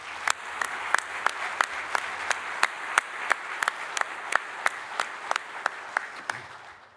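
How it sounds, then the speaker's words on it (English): A round of applause fills an awards luncheon at an annual conference, a steady crowd of clapping hands with sharp, regular claps standing out, sustained throughout and fading at the end. "Please join me in a round of applause."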